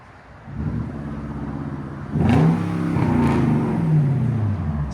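A Genesis 5.0L V8 car engine idles, then revs hard around the two-second mark, its pitch rising and falling through several throttle blips, loud and close with no talking.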